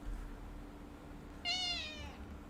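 A single cat meow, clear and fairly close, rising and falling for about half a second in the middle of a quiet room with a faint steady hum.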